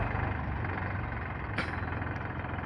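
A tractor engine idling while stuck in a muddy, water-filled pothole, a steady low throbbing rumble with one faint click partway through, close and alone without voices.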